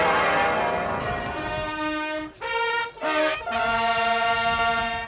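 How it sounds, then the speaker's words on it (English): Large church bells ring loudly and close, overlapping peals with rich lingering tones, broken by a few brief gaps. "To hear the bells rung for the first time"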